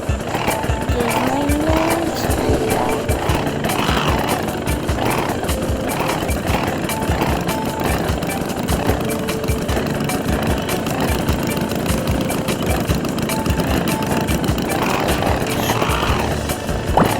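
Roblox motorcycle engine revving continuously and loudly in a video game over a racing-like soundscape, steady throughout with no talk.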